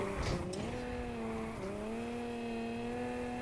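A car in NFS Heat, an RX7 drift build, squeals its tires in a sustained, loud drifting whine with steady engine drone, the pitch dipping briefly mid-slide before holding steady.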